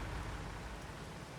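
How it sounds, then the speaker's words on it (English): Steady rainfall in the Farming Simulator video game, an even, continuous hiss of rain on surfaces with a low rumble underneath, heard alone with no talk. "This rain is great for the crops,"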